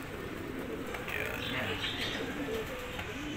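Racing pigeons coo softly in a loft, a steady murmur of low cooing under constant background hiss, with a voice talking faintly in the mix.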